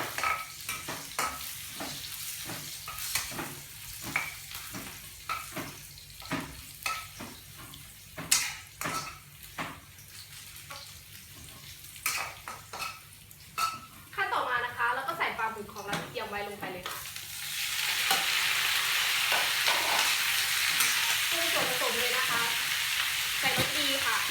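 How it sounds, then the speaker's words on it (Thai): Pounded chillies and garlic stir-frying in a pan for squid with holy basil, heard as rhythmic spatula scrapes and taps over a sizzle, building to a loud steady hiss of frying at the end. "เจียวให้หอมนะคะ"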